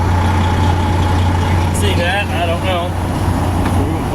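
A truck engine idles steadily with a strong low drone while the PTO is engaged on a pneumatic trailer rig, and a voice talks briefly over the constant hum partway through.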